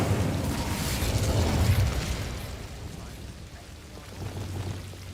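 A fiery Incendio spell cast in Hogwarts Legacy, a loud crackling whoosh of flame that swells over the first two seconds, thins out, then flares again near the end.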